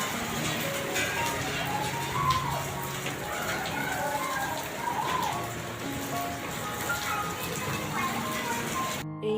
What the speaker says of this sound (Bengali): বাইরে বেরিয়ে এসে দেখি না খুবই বৃষ্টি হচ্ছে তাও আবার শিলা বৃষ্টি